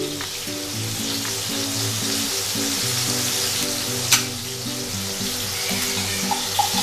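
Garlic, whole tomatoes and chopped capsicum fry in a pan, a constant close sizzle and hiss with a soft bubbling undertone and one sharp clink partway through; no speech.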